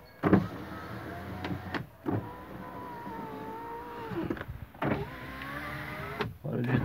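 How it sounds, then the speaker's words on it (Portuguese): Rear electric power windows of a VW Golf Mk4 being operated, several whining motor runs, each rising and falling, separated by clicks and thumps, fairly close and loud, with someone speaking between them. "Eu vou mexer nos vidros traseiros."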